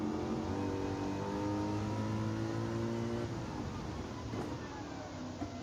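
A racing car engine in the Gran Turismo 7 video game drones steadily at high revs, the pitch slowly shifting as the car drives through a tunnel. The engine is loud and continuous throughout, and there is no talk.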